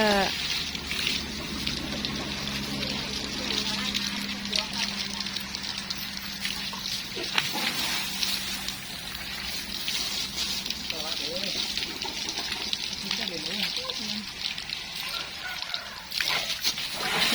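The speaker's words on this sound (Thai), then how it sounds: "น้องอาบน้ำกันคะชอบมาก ๆ เลย" A baby elephant bathes, sending continuous water splashing and sloshing with scattered sharp splats throughout, while someone talks over the sound.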